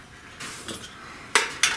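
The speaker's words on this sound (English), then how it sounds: "it's a stainless steel mess kit" Stainless steel mess kit pieces (a small pot with lid, frying pan and cup) clink and scrape together in a few close metallic knocks, with two sharper, louder clanks near the end and no talking.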